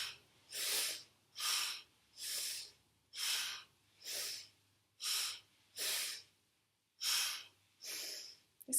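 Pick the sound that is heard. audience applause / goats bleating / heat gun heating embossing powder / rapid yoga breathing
rapid yoga breathing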